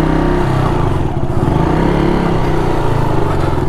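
An old-model KTM Duke 200 motorcycle engine revving up close: loud, steady, throbbing exhaust note with a rhythmic pulsing idle and slight rises in revs, heard alone with no talking.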